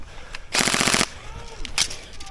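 Airsoft gun firing during an outdoor skirmish, a tight rapid burst of about half a second followed by a couple of quicker, fainter shots, with quiet background noise between.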